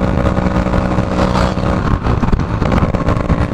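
A Yamaha RX100 motorcycle with an old RPM cable revs up close by, its engine note rising and falling in bursts, loud and unaccompanied by talk.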